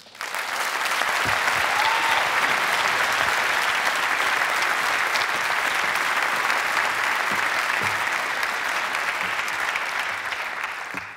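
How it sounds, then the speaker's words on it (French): An audience applauds a guest storyteller as she is welcomed on stage, a dense, steady clapping that fills the whole stretch and fades slightly at the very end. "Merci d'applaudir très fort Suzy Malandin"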